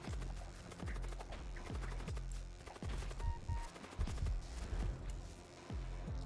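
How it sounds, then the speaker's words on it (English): Enemy gunfire in the Void War video game, a rapid series of sharp shots at a steady rhythm, fairly close and moderately loud over a constant low game soundscape, without anyone talking. "You're still shooting at me?"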